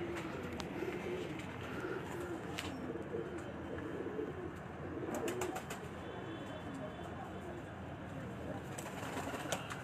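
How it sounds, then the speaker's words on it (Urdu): Ali Wala pigeons coo steadily in low, throaty murmurs over a busy, noisy background, with a few brief sharper sounds mixed in. "یہ سارا علی والا کبوتر ہے"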